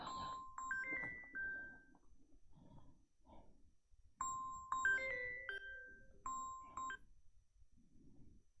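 A mobile phone rings with an incoming call, its melodic electronic ringtone sounding in two short repeated bursts over quiet room noise.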